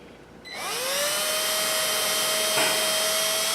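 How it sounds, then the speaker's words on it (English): A power drill spins up and runs steadily, boring into a hole while fitting brass hardware; a loud continuous whine with a rising pitch at the start, close by and alone. "But I'm going to go ahead and drill this,"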